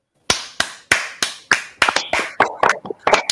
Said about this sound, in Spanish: le vamos a dar un fuerte aplauso